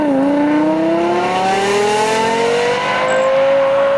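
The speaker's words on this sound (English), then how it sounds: "it's a truly stunning supercar, incredible engine note." A Lexus LFA supercar engine revs with a smooth, loud, steadily rising howl that climbs in pitch across the whole stretch, heard up close and alone.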